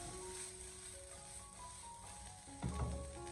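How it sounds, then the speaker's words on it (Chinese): Onion and shredded cabbage stir-frying in a wok with a little oil for soy sauce chow mein: a steady soft sizzle with a low hum, then a louder rustling toss near the end. "我们先把这2款的配菜先给它翻炒一下"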